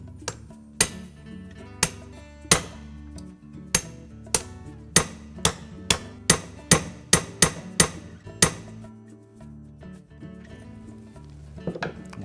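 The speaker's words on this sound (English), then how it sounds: "and our ball peen hammer, we're going to tap that pin out" A ball peen hammer strikes a punch to drive a pin out of a shaft while replacing the worm gear in a Whirlpool stand mixer. About a dozen sharp, close metallic taps start spaced apart, then speed into a quicker run before stopping, over a quiet room.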